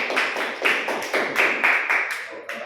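Classroom group-guidance session where participants clap for a student, a sparse uneven patter of hand claps in irregular bursts, moderately loud and close, with no talking over it.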